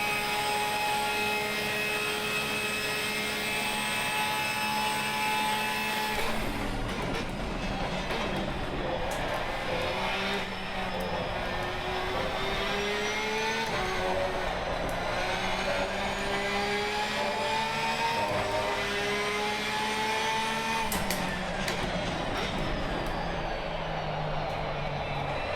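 A race car engine in Assetto Corsa Competizione, driven with traction control, roars loudly and continuously for about 25 seconds, its pitch climbing through the gears and dipping at each upshift, with no talking over it.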